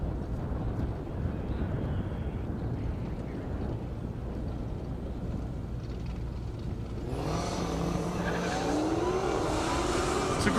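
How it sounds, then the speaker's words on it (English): Dodge Challenger and Dodge Hellcat drag racing on an airport half-mile strip, a loud continuous engine roar that builds into a higher rising howl as the cars launch and accelerate away. "Gustav in the Challenger, Jason Burrow in the Hellcat."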